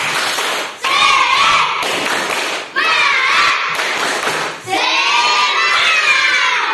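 Children shout a rhythmic chant in loud bursts, each ending in a pause, with claps and thumps driving the beat throughout.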